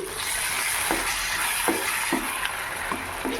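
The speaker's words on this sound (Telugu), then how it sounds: "వంకాయ మొత్తం ఇందులోకి వేసుకొని కలుపుకోవాలి" Eggplant being stirred into a sizzling gravy in a pan for vankaya gojju, with a steady fry hiss and a series of regular soft scraping strokes from the spoon, heard up close without talk.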